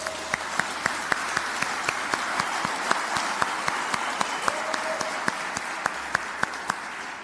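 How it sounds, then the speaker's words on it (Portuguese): Steady applause from a seminar audience, dense clapping throughout with a few louder individual claps standing out. "Dá uma salva de palmas para eles."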